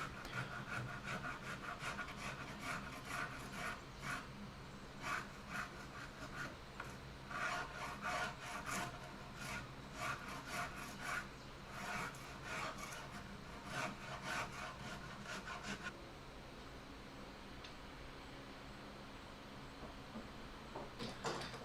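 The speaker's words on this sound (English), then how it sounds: "I refine the shape with those Shinto files that I really like" Shinto rasp files shape a carved wooden counter stool seat with repeated scraping strokes in an uneven rhythm, close and fairly quiet, and the rasping thins out toward the end.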